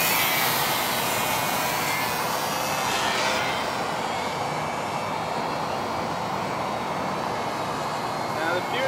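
A Hobbyzone Sport Cub S RC plane flies near the Everglades, its electric motor and propeller making a loud, continuous buzzing drone that holds steady throughout, with wind noise.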